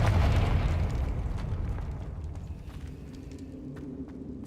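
A Confringo blasting spell explodes in a Harry Potter wizard video game: a loud, close burst whose low rumble fades away over a few seconds, with no talk.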